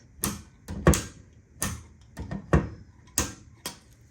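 A piece of furniture being refinished is opened and closed repeatedly, giving sharp wooden knocks and clunks in a steady rhythm of about eight close, loud impacts with no talking.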